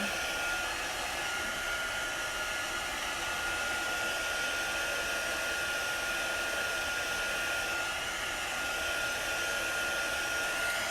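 A hair dryer blows in a steady, loud, continuous whir over wet blue chalk-style paint, with no talk.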